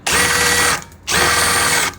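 Two loud bursts of a DeWalt DCF630 power drill spinning at high speed, close by, separated by a short pause as the motor winds down.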